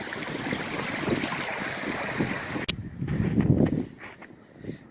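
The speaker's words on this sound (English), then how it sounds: "Here comes the wind again." Gusty wind blowing beside an overflowing creek, a loud rushing roar battering the microphone before it abruptly drops away, leaving quieter gusts and water noise.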